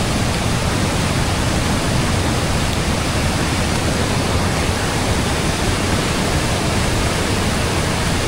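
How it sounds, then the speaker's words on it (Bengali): Monsoon floodwater rushing past with a loud, constant roar, a dense unbroken wash of noise like a waterfall filling everything nearby. "ভয়ঙ্কর গর্জন দিয়ে যাচ্ছে পানিটা"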